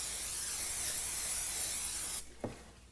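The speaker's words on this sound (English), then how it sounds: "I'm taking a very large skillet and I'm going to spray it with some spray oil" Spray oil is sprayed into a very large skillet as a steady, close hiss lasting a couple of seconds, then it cuts off and a brief metallic knock follows.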